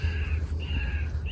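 A white-breasted waterhen gives repeated harsh calls near farmland, a steady series of grating notes in two bursts over a low, constant background hum.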